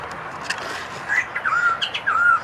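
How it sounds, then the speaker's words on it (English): Wattled lapwing calling in an aviary, a string of loud, sharp, strident notes with rising and falling chirps, close and clear over faint background noise. "No, wattled lapwing."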